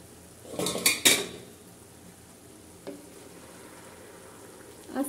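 A spoon stirs sweet basmati rice zarda in a pot, with a cluster of metallic scrapes and clanks near the start, a quieter knock midway and another scrape at the end over a low hiss.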